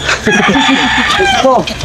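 Hens cluck rapidly close by while a rooster crows over them, a busy, loud farmyard chorus.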